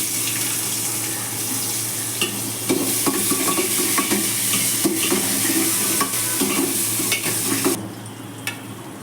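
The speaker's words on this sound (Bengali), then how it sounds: "ফোড়নটা একটু নেড়ে নিয়ে আমি কুঁচো করা পেঁয়াজগুলো দিয়ে দেবো দিয়ে একটু ভাজবো" Chopped onions sizzle and fry in a pan after cumin seeds are tempered, with steady hiss and repeated scraping stir strokes, loud and close, ending abruptly near the close.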